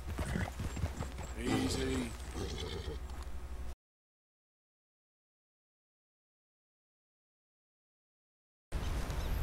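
A wild horse in the Red Dead Redemption 2 video game clip-clops and whinnies close by, loud hooves and a neigh in the first few seconds, then silence before a brief return.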